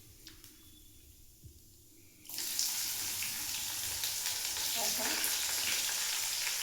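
Onion hits hot oil in a pan in a home kitchen and a loud, steady sizzle starts abruptly after a quieter moment, continuing close and hissing to the end.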